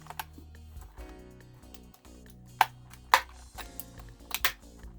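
Scissors snip the bands holding a 2023 WWF Superstars Andre the Giant action figure in its packaging, giving a few quiet, sharp clicks and cuts spaced apart over soft handling noise.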